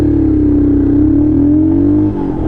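Royal Enfield Himalayan 411 single-cylinder motorcycle engine revving hard during a launch, a loud, steady, rising drone that drops off sharply near the end.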